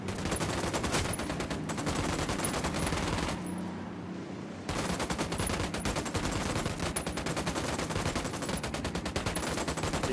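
Video-game gunfire keeps firing at a target in a cartel-themed game. Dense, rapid automatic shots run loud and almost without a break, with a brief lull in the middle before the shooting resumes.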